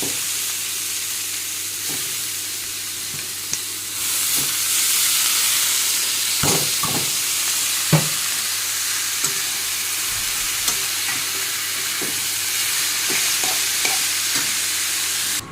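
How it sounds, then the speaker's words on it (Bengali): Cabbage stir-fried in a pan after potatoes fried with turmeric and salt, giving a steady close sizzle broken by intermittent scrapes and taps of the stirring spoon. "এখন দিয়ে দিই বাঁধাকপিটা ভেজে নেবো"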